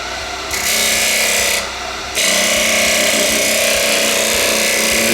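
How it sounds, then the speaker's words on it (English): Carbide Simple Scraper 5 fitted with an AR cutter turning resin on a wood lathe, with a steady loud scraping, rasping cut that drops out briefly twice before resuming continuously. "I'm going to pull out the Simple Scraper 5. So this has the AR cutter in it now because I'm hitting resin."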